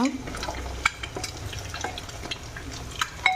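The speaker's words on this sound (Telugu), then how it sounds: "ఇక్కడైతే ఎగ్స్ నూనెలో వేయించుకుంటున్నాను" Eggs fry in oil in a pan with a soft, continuous sizzle, broken by several sharp clinks and scrapes of a utensil stirring against the pan.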